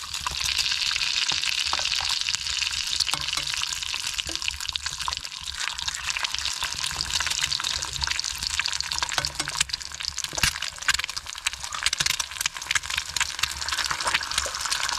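Eggs crackle and sizzle in hot butter on a skillet, a constant bright hiss dotted with sharp pops and spits that runs unbroken and fairly loud throughout.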